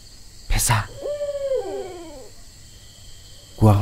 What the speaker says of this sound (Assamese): ফেঁচা